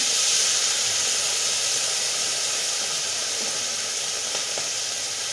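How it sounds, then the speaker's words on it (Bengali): Hilsa fish fries in hot oil, giving a steady, close hiss and sizzle that carries evenly from start to finish with no voices. "এটা রেখে দিই আর মাছটা ভাজা হতে থাকুক"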